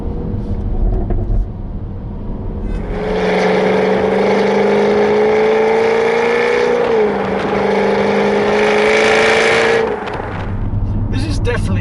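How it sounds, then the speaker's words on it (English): Jaguar F-Type R V8 in loud exhaust mode, standing still with a steady low burble at idle that swells and holds for several seconds before settling back, heard from inside a well-insulated cabin while someone talks over it. "just plonk it into loud mode. Just makes a nice burble when it's standing still"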